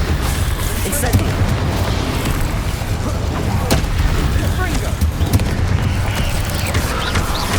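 Fire spell cast repeatedly in Hogwarts Legacy amid a busy game battle, with a dense, continuous roar of bursts and booms filling the scene, loud and sustained.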